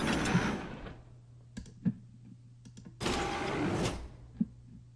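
Lab door sound effects for a game ambience demo play as two broad swishing door movements with short clunks and latch clicks between them, over a steady low room hum.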